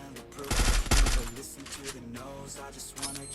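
Gunfire in the mobile battle royale game Free Fire: a burst of sharp automatic shots about half a second into the clip, followed by softer game sounds while a player talks.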